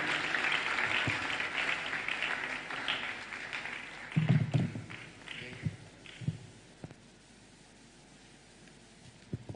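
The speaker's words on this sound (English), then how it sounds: "One more time, a round of applause for our co-chair." Audience applause for the co-chair at the opening ceremony of a Ghana food security conference: a burst of crowd clapping that thins and fades within a few seconds, followed by scattered taps and shuffling in a quieter hall.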